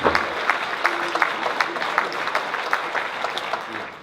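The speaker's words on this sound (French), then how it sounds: "je crois que on doit le féliciter et l'applaudir" An audience at a large family reunion gathering applauds, loud, close clapping with individual claps audible in an even patter, a few voices mixed in.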